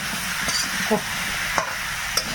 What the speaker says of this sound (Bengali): নতুন তরকারি তো ভালো করে নেড়ে চেড়ে ভেজে নেবে